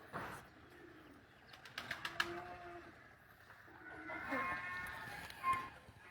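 A pigeon coos faintly a few times, soft low rounded calls rising out of a quiet background with occasional light rustles and knocks nearby.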